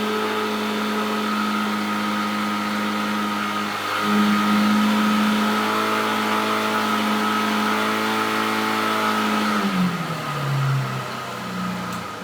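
An engine held at steady revs during a two-phase charging system test, a continuous even mechanical hum with a slight rise partway and a dip in pitch near the end, close and loud, no talk.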